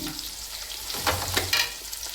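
Onions, green chilies and cumin fry gently in oil over a low flame with a steady, bright sizzle. A few spoon stirs and scrapes sound close by.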